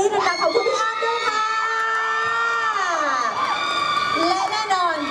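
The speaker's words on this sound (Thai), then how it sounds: "ตอนนี้ขอเสียงกรี๊ดนะคะ" A crowd at a shopping mall opening shrieks and cheers loudly and continuously, high-pitched screams rising and falling together without pause.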